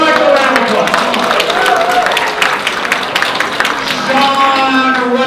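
An audience at a chamber of commerce event gives a sustained round of applause, dense and steady, with voices and cheers mixed in over the clapping.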